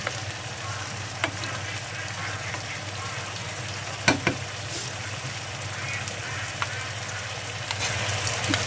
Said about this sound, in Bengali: টমেটোগুলো উল্টিয়ে দিচ্ছি।